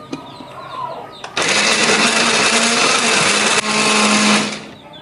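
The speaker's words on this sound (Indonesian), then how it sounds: "Di sini kita siapkan cabai merah keriting, kemudian ada bawang merah, bawang putih dan juga tomat. Wis ini aja. Ini akan kita blender." An electric blender grinds red curly chili, shallots, garlic and tomato, a loud steady whir that starts after a brief burst, runs continuously for several seconds and then cuts off.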